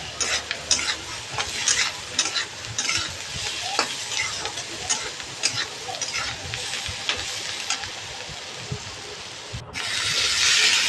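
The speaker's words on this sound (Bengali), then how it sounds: "এবারে থেকে ভালো করে আমি নেড়ে নুড়ে ভেজে নিব ভালো করে সুন্দর করে ভেজে নেব এটাকে" Chicken with turmeric being stirred and fried in a pan for chilli chicken, a busy sizzle broken by repeated scraping strokes of the spatula against the pan, close and fairly loud, swelling into a stronger hiss at the end.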